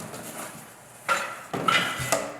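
A hardware bag of metal clamps is handled close up, giving a few crisp metallic clinks and plastic crinkles in three short bursts over faint room tone.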